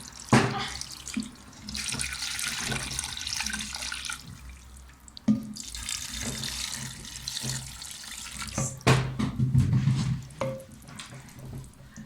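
Water pours from a tap into a pot of stuffed cabbage rolls, a close splashing and gurgling flow with short breaks and a few clanks.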